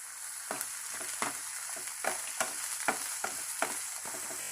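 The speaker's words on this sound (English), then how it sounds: "Saute it. Let onion become light brown." Chopped onion sautéing in hot oil in a pan, a steady close sizzle with a few sharp crackles and stirring scrapes at a loose, irregular rhythm, no voices.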